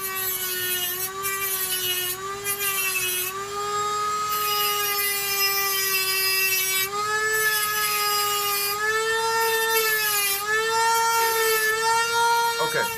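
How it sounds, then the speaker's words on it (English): A Dremel rotary tool cutting through metal broadhead arrow tips, giving a steady high-pitched whine that runs loud and close for the whole stretch, its pitch wavering slightly as the cut bites. "Now we use Dremel and we cut in them out."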